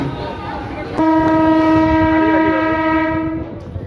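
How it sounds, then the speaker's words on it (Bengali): A train pulls into Nalikul station on the Tarakeswar line and sounds a loud, sustained horn for over two seconds, ringing out close by above a steady rumble of the moving train. "জাস্ট সামনে থেকে ট্রেন আসছে"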